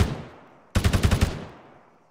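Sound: enemy machine gun fire in Arma 3 video game

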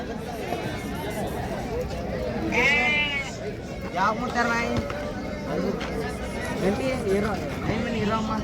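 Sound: sheep and lambs bleating at a sheep market

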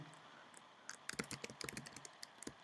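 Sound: typing the root password on a computer keyboard

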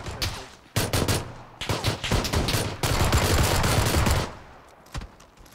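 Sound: pistol gunfire in video game PUBG

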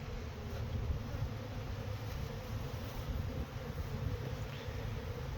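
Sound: honeybees passing through a pollen trap at the hive entrance

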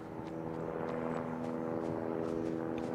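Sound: helicopter flying, from the video game Call of Duty: Mobile

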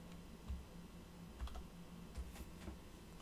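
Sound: pressing Control L on a computer keyboard

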